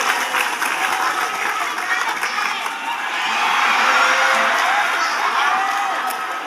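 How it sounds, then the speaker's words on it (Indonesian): At an Islamic religious lecture, an audience gives Fahmi a loud round of applause mixed with cheering, whoops and children's shouts, swelling midway and then holding steady. "Tepuk tangan dulu untuk Fahmi."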